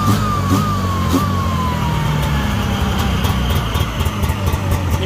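Taiga snowmobile engine idling in place after being unloaded from a trailer: a steady, close, loud rumble with a faint falling whine over it, and no talk.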